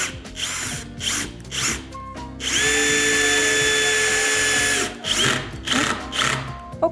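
A compact BAHCO drill/driver drives a screw deeper into material, with short buzzing bursts, then a long steady whine lasting about two seconds, then more stop-start ratcheting pulses, loud and close with no talking.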